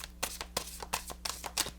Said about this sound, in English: So the Starman Tarot, this one's on Amazon. You can still shuffle this, and I like to, you know, shuffle it like this